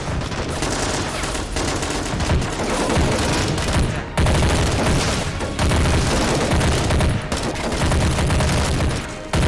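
Sustained firefight in a battle simulation video game, dense overlapping gunfire and booming blasts filling the whole stretch at high volume, with brief lulls between bursts and no talk.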